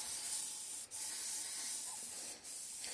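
A continuous hiss of an aerosol spray can, briefly interrupted twice, fairly quiet and close.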